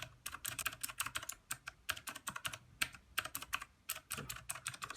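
Rapid clicking on an E-Element Z-88 RGB mechanical keyboard, with dense, uneven bursts of sharp key presses repeating close up throughout, and no talking.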